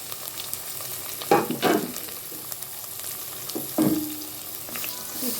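Chopped tomatoes and onions hit hot oil in a pan for aloo bhujia, giving a close, steady sizzling hiss that flares twice in louder bursts of frying and stirring, with no voices.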